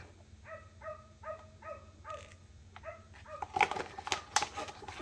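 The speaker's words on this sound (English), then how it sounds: "There's a dog barking outside across the road." A dog barks repeatedly across the road outdoors, a rhythmic string of about seven sharp, slightly distant barks, followed by closer clattering and handling noises.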